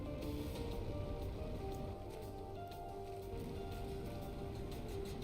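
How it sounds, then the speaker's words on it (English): Rain falling steadily in a terraforming video game, a soft dense patter of drops under faint low background music, continuous and fairly quiet, with no talking. "Hey, look, it's raining again."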